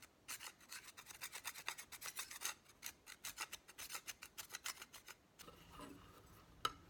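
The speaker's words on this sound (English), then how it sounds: "you can just take another tool, just like this, and just scrape it" A beekeeper's metal hive tool scraped with another tool to clear off propolis, a rapid series of dry, rasping strokes in an uneven rhythm, close and fairly quiet, with a brief softer scuffing near the end.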